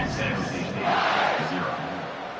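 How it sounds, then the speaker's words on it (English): Stadium crowd noise in the College Football 26 video game, San Jose State vs Texas, a dense, steady roar of cheering that swells slightly in the middle and holds loud throughout. "this crowd is feeling themselves after that last drive"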